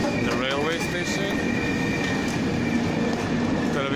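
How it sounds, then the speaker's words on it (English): Steady rumble of a train rolling along the tracks through a railway station, with a high metallic squeal from the wheels and a brief voice early on. "I'm in the railway station."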